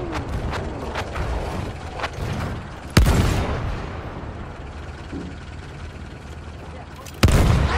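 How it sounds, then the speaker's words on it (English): A tank fires in a multiplayer video game match, two sharp, loud booming blasts several seconds apart amid clanking mechanical and battle noise, with voices talking in the background. "Das ist ein Panzer!"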